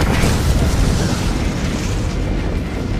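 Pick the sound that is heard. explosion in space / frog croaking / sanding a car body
explosion in space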